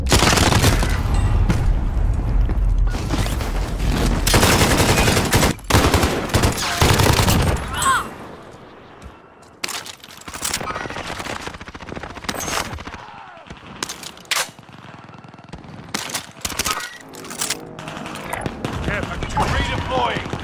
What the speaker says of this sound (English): I'm hit! Bullets everywhere!